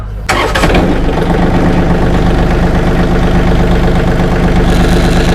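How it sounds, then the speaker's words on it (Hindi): A VST 929 DI EGT 4WD tractor of about 28 HP is started with a key via a solenoid: a short cranking burst, then the diesel catches and settles into a steady, loud, close idle with an even low throb. "चाबी से ही ट्रैक्टर को ऑन और ऑफ कर सकते हैं जी"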